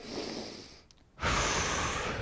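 An instructor takes a deep breath in during a hip stretch, a close, airy inhale that follows a brief quiet gap and then fills the rest of the moment.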